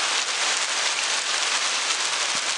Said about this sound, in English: Oh man, it's cold rain.